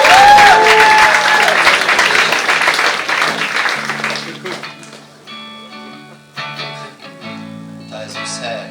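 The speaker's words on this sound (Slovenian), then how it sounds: "Dobrodelna pesem za računovodje, dajmo en aplavz." Audience applause at a theatre show marking an anniversary performance, loud clapping that fades over several seconds while someone speaks and sustained musical tones enter.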